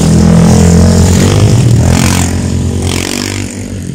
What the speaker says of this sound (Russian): проедут чуваки на мотоцикле.